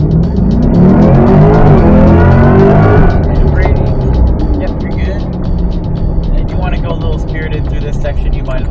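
A Corvette E-Ray runs a handling course with a loud, close engine drone rising and falling through the turns, while voices talk over it.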